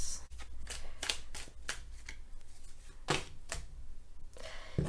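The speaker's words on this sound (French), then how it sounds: "je bats les cartes et je prends uniquement celles qui sautent" Tarot de Marseille cards are shuffled by hand in close, repeated riffling bursts, each a crisp flurry of paper flicks with short pauses between them, loud and near.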